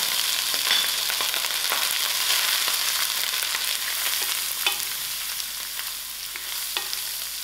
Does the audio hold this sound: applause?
no